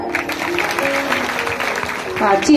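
Audience at a Shiv Puran religious discourse gathering clapping, a steady burst of applause lasting a few seconds with some voices mixed in.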